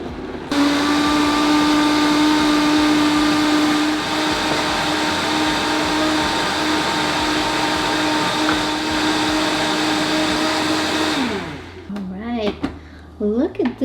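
A Vitamix blender whirs loudly and steadily at close range, churning papaya, carrot, yogurt and chia seeds into a smoothie, then winds down and stops, followed by a voice speaking.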